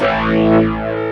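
A sustained, distorted electric guitar chord rings through a delay effect on a homemade amp rig, smeared echoes blending into one loud, close wash for about a second.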